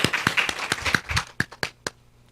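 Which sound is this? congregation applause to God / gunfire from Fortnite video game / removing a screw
congregation applause to God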